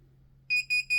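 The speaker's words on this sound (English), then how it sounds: "and it makes a beeping sound." A hat heat press machine beeps three times in a steady rhythm, clear and close, with a low electrical hum running underneath.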